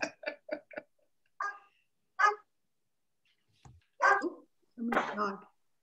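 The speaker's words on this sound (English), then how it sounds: "Snoopy barking." A dog named Snoopy gives a series of short, sharp barks, first four quick yaps in a row and then a few spaced, louder barks, close by in an otherwise quiet room.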